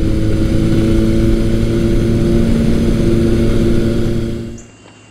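A Kawasaki KZ1000 motorcycle fitted with a Delkevic exhaust drones loudly and steadily at high revs, then quickly fades away at the end.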